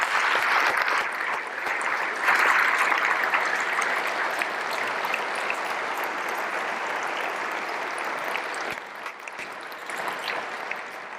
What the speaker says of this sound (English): Let's applaud these and those who were not able to be with us this morning.